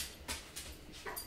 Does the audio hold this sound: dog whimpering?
yes